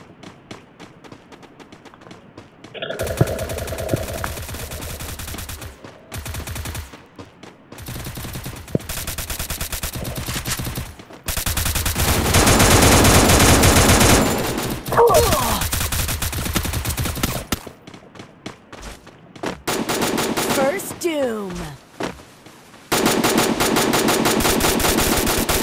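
Gunfire from double pistols in the Free Fire video game rattles in long dense bursts, loud and close, separated by brief silent gaps and game sound effects.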